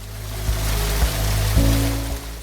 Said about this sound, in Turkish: Şelale 5 metre yükseklikten dökülüyor.